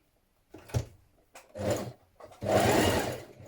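A sewing machine runs gathering stitches on a McCall's 7978 gathered top, in three separate bursts of increasing length, the last the longest and loudest, with short pauses between and no talk.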